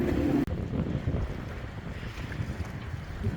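Strong wind at a boat dock on Cumberland Island, Georgia, buffeting the microphone in a steady, loud roar with gusty surges and no voices.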